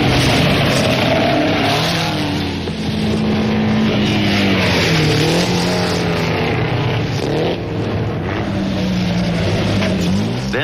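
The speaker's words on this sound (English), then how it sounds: "Even Pablo's Delage number 9 cannot match the Peugeots." Early Peugeot, Delage and Mercedes racing cars roar past during a historic motor race, a continuous loud engine drone with shifting pitch as the cars rev and pass, dense and unbroken throughout.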